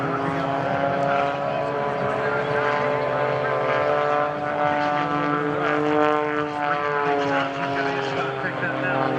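Aerobatic propeller aircraft, extremely lightweight and maneuverable, performing at the 2012 Blue Angels Homecoming Airshow, its engine droning steadily with shifting pitch as it maneuvers, with an announcer talking over it throughout.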